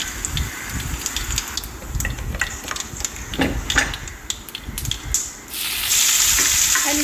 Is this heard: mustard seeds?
yes